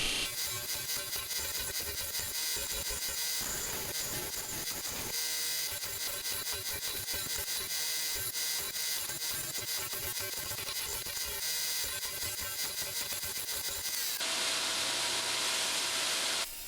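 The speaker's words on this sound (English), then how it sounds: "I decided the easiest way to do it would be on the disc sander." A disc sander grinds down a wooden chopstick, a steady loud abrasive whir with rough scraping texture throughout and a brief change in tone near the end, with no talking.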